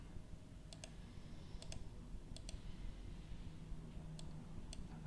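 A computer mouse clicks close by in quick pairs, repeating several times over a faint background hum.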